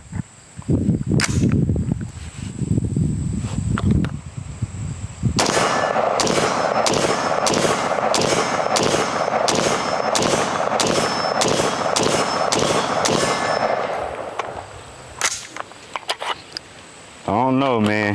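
A PSA JAKL rifle fires a rapid string of about a dozen sharp, loud shots at an outdoor range, evenly spaced cracks with metallic ringing, preceded by scattered clatter and a voice.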